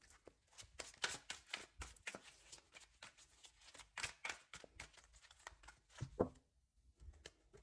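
Tarot cards shuffled by hand for a reading, a long run of quick papery riffles and soft slaps with short pauses, close and fairly quiet, with no talk.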